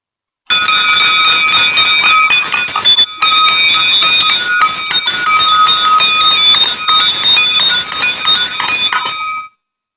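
A temple bell at a forest shrine to the deity Narsingh rings continuously with bright, sustained metallic tones, struck repeatedly over about nine seconds, loud and close with no speech.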